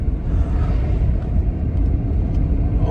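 A car drives along a road with a steady, loud low rumble of engine and tyres heard from inside the cabin. No talk.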